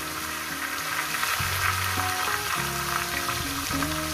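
Fish heads frying in a pan, a continuous crackling sizzle with a droning tonal background of shifting low notes underneath, no talking.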